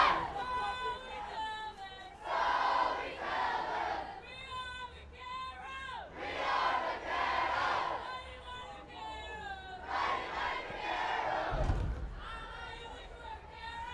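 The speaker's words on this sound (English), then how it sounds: "This Rancho crowd getting nice and loud, setting up a good atmosphere for the Vaqueros" Loud home crowd at a high school football game, Rancho Vaqueros against the Seahawks, roaring and chattering in waves, with shouted voices rising over a steady babble and a thump near the end.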